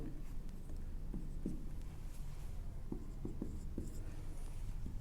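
Writing on a board during a partnership final accounts lecture: soft, scattered tapping and scratching strokes under a steady background hum, fairly faint, with no talk.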